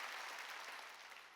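Church congregation at a Sunday worship service applauding, a short, faint, steady patter of many hands clapping together, fading slightly at the end.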